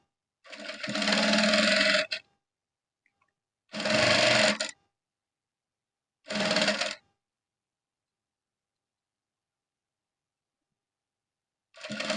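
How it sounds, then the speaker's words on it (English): A sewing machine stitches a folded curved trouser edge in three bursts of a few seconds each, separated by silence, with a fourth burst starting at the end; the sound is close and fairly loud. "This curved edge, I'll fold it like this and sew."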